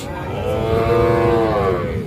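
A Sahiwal calf or cow at a cattle sale moos once, a loud, close, drawn-out low call lasting about two seconds, with market noise faint underneath.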